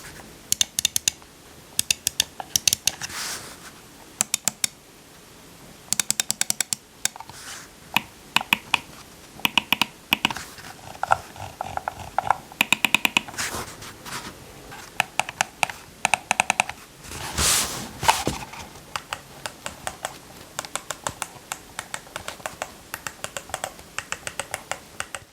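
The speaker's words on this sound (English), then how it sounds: "now I'll show you what the mouse click sounds like" Rapid, crisp button clicks from a Razer Naga X MMO gaming mouse in irregular bursts, close and sharp, continuing steadily with brief pauses.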